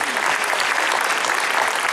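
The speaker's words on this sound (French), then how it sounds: "Et il faudrait qu'on l'applaudisse parce que vraiment," A crowd at a seniors' banquet in Corbeil-Essonnes applauds in a loud, steady, dense wash of clapping, continuous throughout with no distinct voices.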